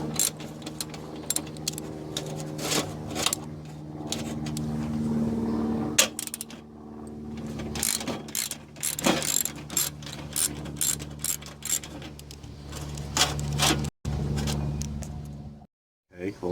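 A ratchet wrench clicks in repeated bursts of short rapid pawl ticks while radiator support bolts are backed out on a 1966 Ford Thunderbird with an FE 390 engine, close and fairly loud, with brief pauses between runs.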